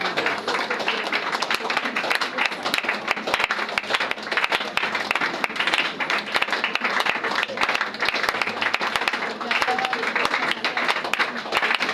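A church congregation claps and applauds loudly and continuously during a prayer service, a dense crowd of claps mixed with voices.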